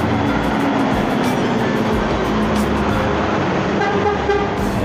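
Buses and traffic rumble loudly through the busy Anjuk Ladang bus terminal, with a bus pulling in amid constant engine drone and a few short horn toots.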